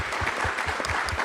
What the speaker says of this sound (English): another round of applause for the city of Houston